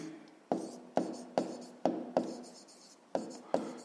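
A pen scratches across paper while a math solution is written out by hand, producing about eight crisp, evenly spaced strokes, close and fairly quiet, with no talking.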